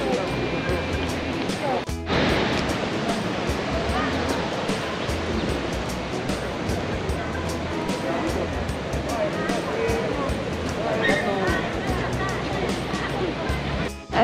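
A small waterfall spills into the canals of Rasiglia, Umbria, making a steady close rush of water that continues without a break, with a brief knock near the start.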